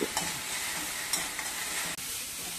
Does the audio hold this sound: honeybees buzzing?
no